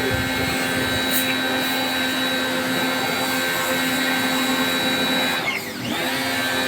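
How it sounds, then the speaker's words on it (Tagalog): Pressure washer running steadily while cleaning an air conditioner, a loud continuous motor whine with a stable tonal hum, dipping briefly near the end as the spray shifts. "Pressure washer."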